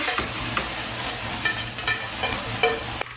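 Finely chopped onion sizzles in hot oil for a Yemeni bean dish, a steady near hiss broken by a few spoon scrapes and clinks as it is stirred.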